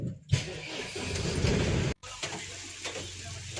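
A parked truck's engine rumbles steadily, with a low broadband roar that breaks off once and then resumes at a lower level.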